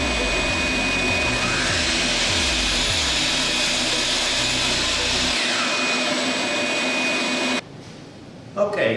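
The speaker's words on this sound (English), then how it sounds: "Next, we miter all the frame pieces so that we can create the picture frame." A power saw whines loudly as it miters vinyl picture-frame pieces, with repeated short cutting bursts, then the motor spins down and cuts off near the end.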